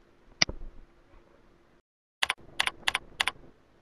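Keys on a computer keyboard are typed while group names are entered: one isolated keystroke, a pause, then a short quick run of crisp, close clicks in a quiet room.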